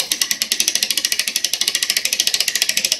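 An Ansonia clock mainspring is wound tight on a spring winder: a fast, even ratchet clicking repeats about ten times a second, crisp and close, with no talk.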